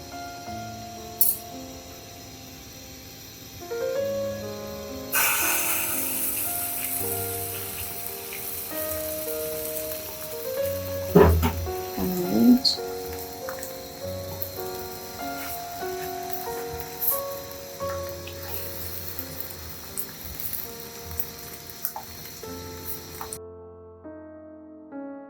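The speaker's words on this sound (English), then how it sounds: "As the pan is hot, I'll put the egg in it." An egg sizzles as it is dropped into a hot pan for an onion-chilli fry, a steady crackling hiss jumping up suddenly and continuing at moderate level, with scattered pops and clatter of utensils.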